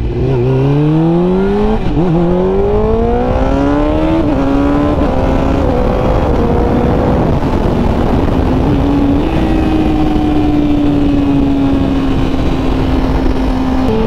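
A 2001 Suzuki GSX-R 600 K1 sport bike with a Healtech quick shifter, loud and close, revs climbing through several quick clutchless upshifts with brief dips in pitch, then holds a steady high drone.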